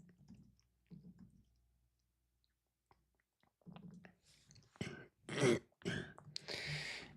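A few faint throat noises early on, then several close, sharp coughs and throat clearing in quick succession toward the end.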